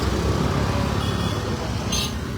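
Road traffic passing at a road block at Alto Torda in Goa, a continuous low rumble of vehicle engines and tyres close by, fairly loud and steady with a brief higher whoosh near the end.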